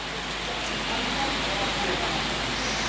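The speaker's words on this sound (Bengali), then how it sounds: "কত সুন্দর বৃষ্টি হচ্ছে" Steady rain hisses evenly throughout under heavy clouds, a dense wash of falling water with no talking.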